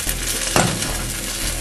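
An egg fries in a pan as the yolk goes in. A constant crackling sizzle fills the clip, with a short, sharper burst of spitting when the yolk hits the hot surface.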